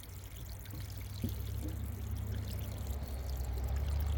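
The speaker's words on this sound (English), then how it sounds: "The siphon has broken." Water pouring steadily from a broken siphon in a frog pond, a constant low rushing flow heard close with a faint splash near the start.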